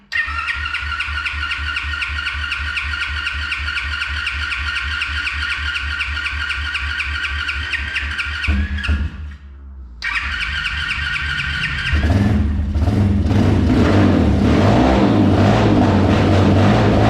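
A brand-new Pitster Pro dirt bike engine runs steadily and loud nearby, cuts out briefly, then restarts and revs up stronger, with a continuous motor drone throughout.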